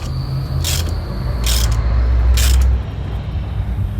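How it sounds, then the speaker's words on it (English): A ratchet fitted onto a wheel lug nut while changing a car tire, giving three short metallic clicking bursts at a steady pace over a low, constant background hum. "I'll probably just have to put the ratchet on this just one for a second"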